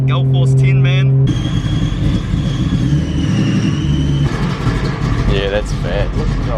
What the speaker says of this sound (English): Look at that idling away